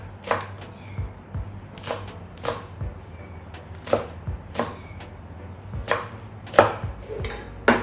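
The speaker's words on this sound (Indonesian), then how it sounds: "di sini cabai hijaunya udah selesai kita potong" Knife chopping green chili peppers on a board for a Cirebon-style green chili vegetable dish, about a dozen sharp, evenly spaced chops close up, with no talk.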